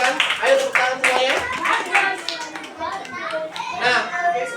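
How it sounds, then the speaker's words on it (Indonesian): Children clapping together in a classroom, uneven and lively, mixed with kids' chatter and voices over the applause throughout. "Ayo, tepuk tangan semuanya."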